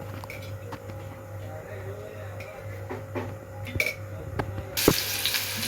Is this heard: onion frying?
yes